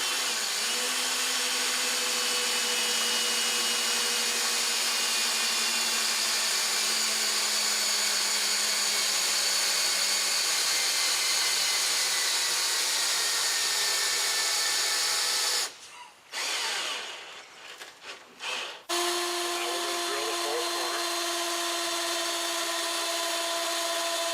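A power drill bores into the third corner of a water system fitting, running as a loud, steady whine for about sixteen seconds, then stopping with brief clattering handling noises before a quieter, steady mechanical hum resumes.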